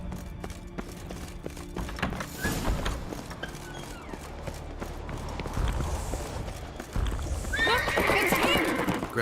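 In The Witcher video game, a horse whinnies while hooves clip-clop and pound into a gallop, with a second neigh near the end over a busy mix of game sound and faint voices.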